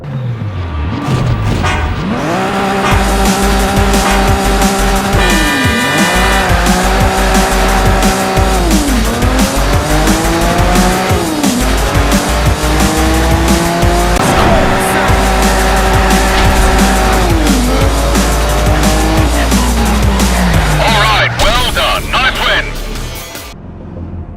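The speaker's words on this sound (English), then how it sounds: "BMW is lending us the M3 E36 for today's drift event." A BMW M3 E36 drifts at a drift event in Need for Speed: Shift, its engine revving loudly up and down through gears while tires squeal in long sustained screeches, close and continuous.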